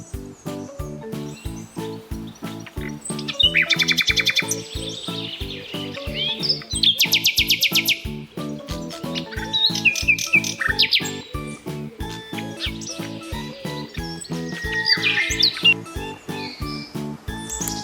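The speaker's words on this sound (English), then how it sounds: "nightingale" Nightingale song in bursts of rapid trills, buzzy rattles and high chirping phrases, heard clearly over a continuous rhythmic children's music track.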